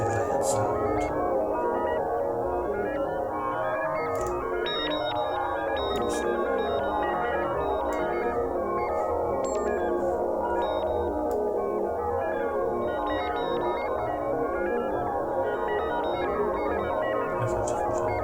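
Densely layered synthesized bell tones from the Scapegrace replay module in a modular synth patch, a continuous shimmering wash of overlapping pitched strikes with scattered bright high pings, steady in level throughout.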